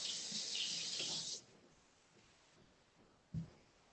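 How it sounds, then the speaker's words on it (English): Running tap water splashes over a hand being rinsed at a kitchen sink for about a second and a half, a steady hiss that cuts off, followed by quiet room tone and a single soft thump. "Quickly rinse my hand off."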